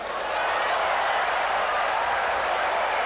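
A crowd at a one-day cricket international between the West Indies and England in Jamaica applauds fielding, with sustained, dense clapping and cheering that stays steady and loud throughout.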